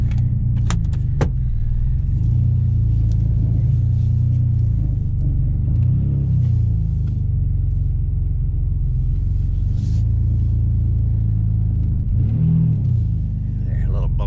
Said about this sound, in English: It's got a crazy idle, but if I give it a little gas, it'll stay running long enough to move it out.